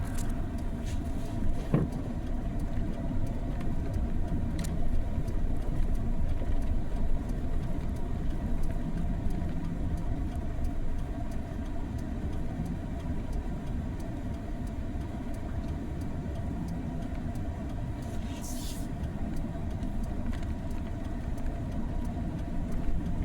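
A John Deere 4440 tractor engine drones steadily while driving along a road near a railroad bridge, a constant low rumble with no voices.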